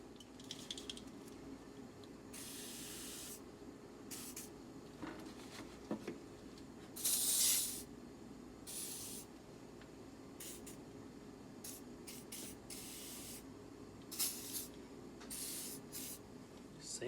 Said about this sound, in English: I would grease this little runways and WD-40 on anything that actually moves.